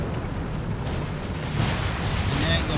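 Mortar fire in Company of Heroes 3, a World War II strategy game, heard as dense, rumbling explosions and booms in a busy battle mix, loud and continuous with a commentator talking over it.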